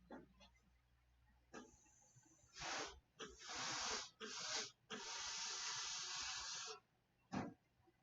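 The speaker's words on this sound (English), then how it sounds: "Don't get jealous when you hear the pulsing steam of the Laura Star iron in the background." A Laura Star steam iron lets out bursts of pulsing steam: several sharp hissing blasts of varying length, one long sustained hiss, then a final short puff, heard in a quiet room at moderate distance.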